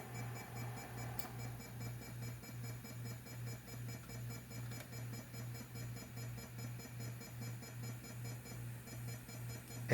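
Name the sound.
Rana 1000 disk drive stuttering from metal shell resonance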